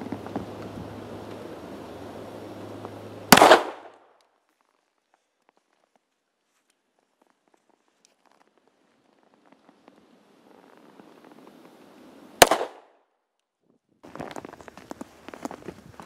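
A Springfield XD Mod 2 pistol fires two loud, sharp shots about nine seconds apart, with near-silence between them and light rustling and handling noise around them.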